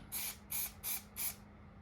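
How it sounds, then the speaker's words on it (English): Four short, evenly spaced bursts of hissing spray paint from a can, stenciling, each about a quarter second long, close and clear against a quiet background. "when I'm spraying this paint"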